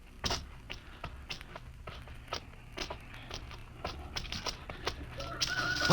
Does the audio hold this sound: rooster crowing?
yes